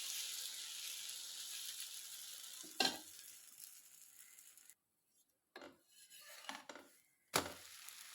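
Dosa batter sizzles on a hot pan in a village home kitchen, a steady hiss that cuts off to near silence partway through, followed by scattered scrapes and a few renewed bursts of sizzling.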